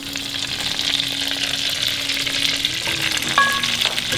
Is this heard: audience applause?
no